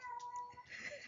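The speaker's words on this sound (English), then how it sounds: "that's my cat, she's fine." A cat gives one short, close meow that rises and falls over about a second, heard by itself in a quiet room.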